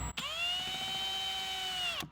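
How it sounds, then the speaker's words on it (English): A power drill bores straight into a wooden board at a right angle, whirring up quickly, holding one steady high whine for nearly two seconds, then cutting off abruptly, loud and close. "I'll start drilling at a 90-degree angle"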